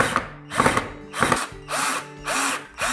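Power drill driving screws into a DIY pegboard wall fixture: several short whirring bursts with pauses between, close and loud, with ratcheting clicks as the screws seat.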